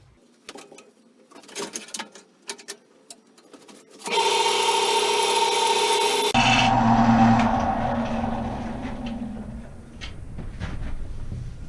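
Wood lathe rough turning a very wet paper tree blank: scattered knocks and handling noises, then a loud, steady broadband roar of the gouge cutting that drops into a lower, rumbling cut and continues to the end.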